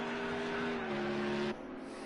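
Engine of a GT3 race car in Project Cars 2 held at full throttle on the Catalunya circuit, a steady high-revving drone with strong harmonics that drops off abruptly near the end as if shifting or fading.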